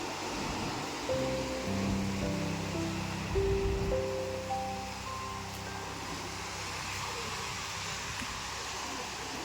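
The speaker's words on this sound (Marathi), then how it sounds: "एक नंबर वाटतं लाटा." Sea waves at Kondura beach give a steady broad wash of surf with a louder swell early on, while a faint tonal melody drifts over it from a distance.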